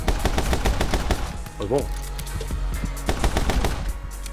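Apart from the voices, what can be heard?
gunfire in the video game My Friend Pedro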